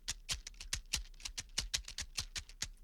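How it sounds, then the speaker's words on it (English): An original shaker loop from the Sabar Sounds shaker pack plays as a steady, rhythmic run of crisp shaker hits with a soft low pulse underneath, moderately loud and alone. "this is what the original shaker loop sounds like"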